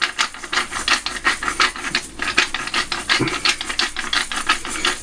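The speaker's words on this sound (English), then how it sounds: "Let's give this a good grind. Absolutely essential this black pepper." Black pepper ground in a pepper mill over steak and kidney pie filling, a close, steady run of rhythmic gritty crunching twists with no talk.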